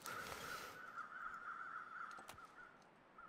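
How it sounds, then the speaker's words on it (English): Several raspy crow caws from the video game The Long Dark repeat in a steady run against a quiet outdoor ambience, close and clear with no voices. "There's definitely crows here."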